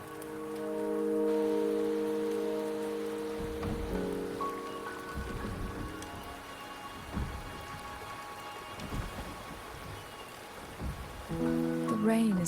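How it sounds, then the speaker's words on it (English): Rain falls steadily in the Wuthering Waves video game, a dense continuous patter over sustained musical tones, with a few heavier thumps scattered through. "The rain is subsiding, and the sky will soon clear."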